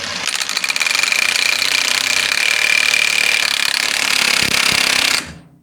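A power tool, likely an impact wrench, rattles continuously for about five seconds while tightening the last suspension bolt on a car, loud and close, then cuts off abruptly.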